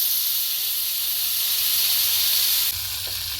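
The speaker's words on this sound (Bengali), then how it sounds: "চিকেনটা দেওয়ার সময় ওভেনটা একদম হাই রাখতে হবে। এবার চিকেনটাকে দিয়ে দিলাম।" Butter-basted tandoori chicken sizzles on a tray in a gas oven set to high, a steady close hiss that drops slightly in level near the end.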